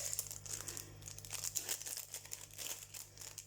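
Purchased small craft and accessory items are wrapped up, with plastic packaging crinkling and rustling continuously and close by, in steady soft bursts with no talk.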